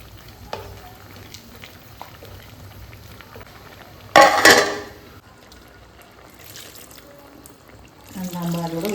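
Second coconut milk is poured into a simmering prawn curry, a brief loud splashing gush midway that fades, then a gentle bubbling sizzle resumes near the end over quiet kitchen clatter.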